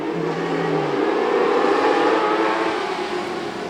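Dirt track race cars roar together around the oval at Watsonville in NorCal, 2020. The engine drone is steady and loud, with a brief higher whine early on, and no voices are heard.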